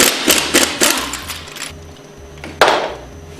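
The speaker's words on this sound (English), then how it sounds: "Use your 1-inch socket to remove the valve caps" A 1-inch socket works the valve caps loose on a HYPRO 2400 plunger pump, giving a few sharp metallic clanks and scrapes up close, with a louder knock near the end.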